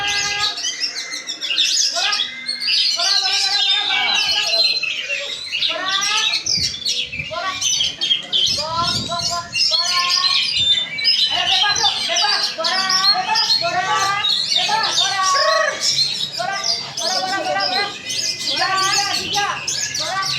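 Songbirds at a bird singing contest in Meulaboh chirp and trill nonstop in bright overlapping bursts, loud and close, with people talking faintly beneath the calls.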